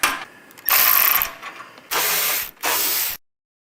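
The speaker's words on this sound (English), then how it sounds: "15mm nut right here on this exhaust clamp, so we're going to remove that and get that loose" Three loud, close bursts of rapid ratchet clicking as a socket wrench loosens a 15mm nut on a motorcycle exhaust clamp, separated by brief pauses and no voices.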